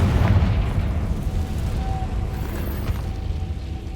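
Confringo spell explosion in Hogwarts Legacy, a low booming blast with a rumbling tail that stays dense and fairly loud through the clip.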